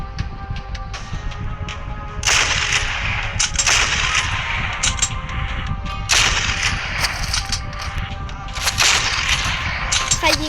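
Rapid Luger pistol fire in the World War II game Desert 1943, loud sharp cracks coming in bursts with clanking impacts and dense battle noise throughout.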